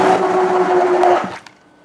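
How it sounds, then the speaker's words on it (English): Stick blender whirring steadily through pizza sauce made with dried oregano and granulated garlic, a loud continuous motor drone that cuts off near the end, leaving quiet. "or bust out the stick blender."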